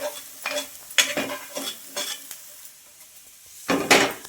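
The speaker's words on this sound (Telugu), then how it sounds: "దీన్ని బాగా కలుపుకోవాలండి, పిండిలో బాగా కలిపేసుకోవాలి." A spoon or ladle stirs thick dosa batter for bun dosa in a bowl. Brisk, rhythmic scraping strokes come about twice a second, pause briefly, then resume with one louder stroke at the end.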